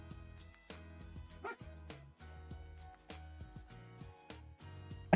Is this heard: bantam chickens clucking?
no